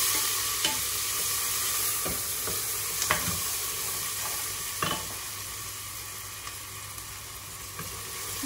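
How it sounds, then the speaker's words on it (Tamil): Onion lightly tempered in hot oil sizzles steadily in a pan while cooking jeera rice, with a continuous close frying hiss and a few soft stirring clicks. "இப்ப இந்த மாதிரி வெங்காயம் லைட்டா தாளிச்சோன்னா"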